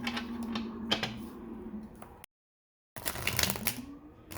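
Thin, flimsy tarot cards are shuffled close by in a quiet room, giving soft riffling clicks and snaps in quick bursts, broken by a short silent pause partway through.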